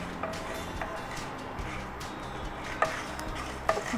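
Mustard seeds dry-fry in a pan with no oil while making chilli pickle, producing a soft, continuous sizzle and rustle with occasional light ticks of stirring, close and fairly quiet.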